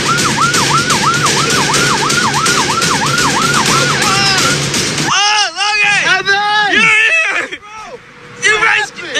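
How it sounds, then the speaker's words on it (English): Emergency vehicle sirens wail loudly on a highway, with a fast, regular cycling tone that shifts to a slower, more uneven pattern partway through, under a background of excited voices. "The sirens are going on."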